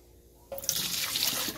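Hot coffee from a very full cup tips into a sink, a sudden splashing pour that begins abruptly partway through and continues steadily, close and fairly loud, with no talk over it.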